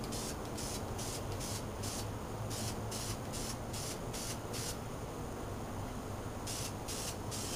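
Airsoft ICS M4 parts being spray painted OD green, with a series of short, even hissing aerosol bursts in quick rhythm, close and steady, then a pause before a few more bursts.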